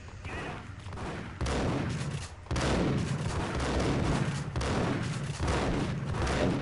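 Heavy gunfire in the Max Payne video game, dense repeated shots and blasts in loud bursts, one after another with barely a pause.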